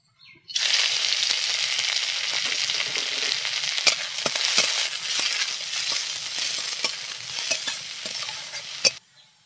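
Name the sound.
chopped onion and green chili frying in oil in a kadai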